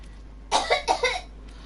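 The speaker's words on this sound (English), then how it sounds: "Stop it with the sound effects, lady. That's not a real cough." A person makes a fake, exaggerated cough in four quick bursts during a live stream of the space exploration game No Man's Sky, loud and close against a quiet background.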